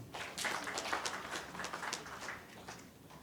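Scattered applause from a crowd, faint and somewhat distant, with uneven claps pattering steadily throughout.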